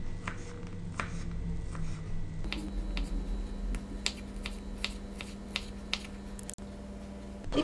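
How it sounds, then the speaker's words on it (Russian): Crab sticks being cut into large cubes with a knife on a board, with a steady series of crisp, close taps and clicks, about one or two each second, over a constant background hum. "Крабовые палочки нарезаем крупными кубиками."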